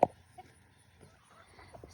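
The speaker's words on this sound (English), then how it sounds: "So here's the birds." Meat chickens about twelve weeks old give faint, scattered clucks in their pen after one sharper call at the start. The rest is quiet and sparse.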